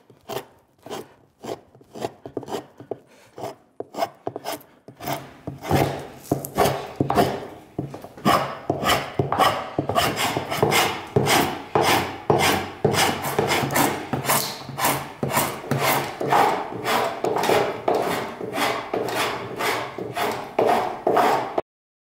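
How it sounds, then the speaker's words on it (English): Close, rhythmic scraping comes from a scorp hollowing a wooden seat for a sack back Windsor chair. At first the strokes are sparse and light, then they settle into steady, vigorous rasping pulls. "Okay, I'm done with the scorp, and I'm going to set it aside."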